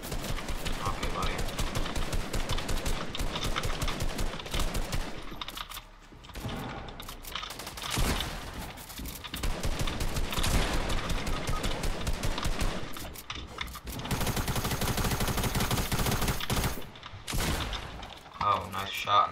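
Gunfire in Fortnite Battle Royale during a squad match, dense repeated bursts of shots and mechanical clatter running across the whole stretch, with a person talking over parts of it.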